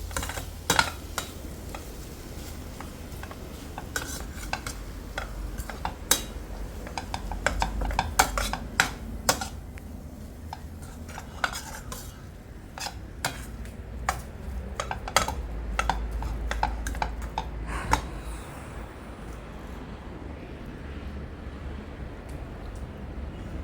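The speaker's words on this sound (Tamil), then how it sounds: "நல்லா இந்த மாதிரி கலந்து விடணும்." A spoon stirs and clinks against a pan while potato and vegetable filling for roti is mixed, giving scattered close metallic taps and scrapes over a quiet background, with no talking.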